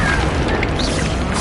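The Bombarda blasting spell explodes in the Hogwarts Legacy video game with a loud, broad boom and crashing rumble that holds steady through the short moment, with no voices.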